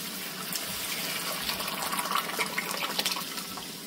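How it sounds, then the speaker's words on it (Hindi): Cooked lentils (dal) poured into a tomato tadka in a pan, giving a steady wet splashing and pouring sound for about four seconds, fairly soft and close, with no talking. "दाल को डाल देंगे।"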